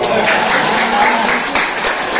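A crowd applauding steadily for a couple of seconds, dense and continuous with voices mixed in.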